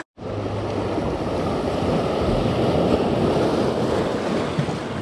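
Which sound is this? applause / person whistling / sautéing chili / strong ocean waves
strong ocean waves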